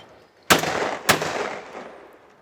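Two loud, sharp gunshots crack about half a second apart at a shooting range. Each leaves a long, fading echo tail, with no talking.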